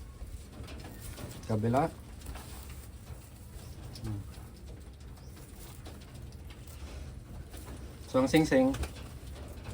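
Wantai pigeons coo in three short, soft bursts, faint and a little distant, while someone talks nearby over a low background hum.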